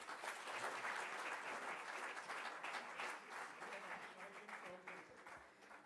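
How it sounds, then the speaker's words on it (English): Audience of doctors at a book launch event applauding, a dense sustained burst of many hands clapping that tapers slightly toward the end. "I think all the doctors in the audience are clapping away"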